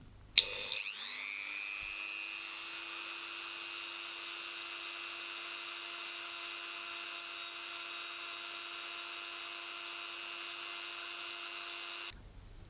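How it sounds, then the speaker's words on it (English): Dremel rotary tool carving indents into a handmade Harry Potter Elder Wand, a steady high-pitched motor whine that spins up quickly and holds constant for about eleven seconds before cutting off, close and alone. "I've begun to Dremel out these indents"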